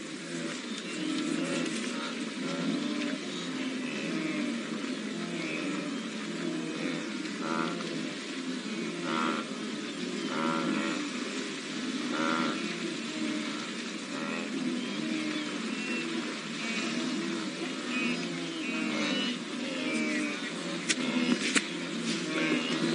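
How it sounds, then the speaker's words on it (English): Wildebeest herd crossing a river, a dense chorus of grunting, lowing calls rising and overlapping continuously over a steady background wash, heard from some distance. "Shirley, I think these wildebeest can be heard from such a vast distance that it's quite difficult to say."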